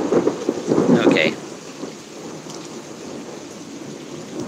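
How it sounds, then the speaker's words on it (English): Thunder from close lightning in a thunderstorm on August 1, 2021 rumbles loudly for about a second, then fades into a steady wash of rain and light wind that continues to the end. "A little bit of lightning there."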